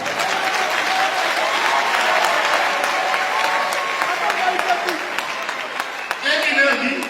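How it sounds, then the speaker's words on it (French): A church congregation applauds God, a loud, continuous burst of many hands clapping close by that runs for several seconds before a voice breaks in near the end. "Est-ce qu'on peut applaudir Dieu?"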